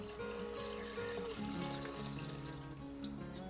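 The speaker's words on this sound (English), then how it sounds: "Next, add 3/4 of the can of the pineapple juice" Pineapple juice pouring from a can into a pitcher of lemonade, a steady close trickling stream whose tone shifts as the container fills, continuous and unbroken, with no voices.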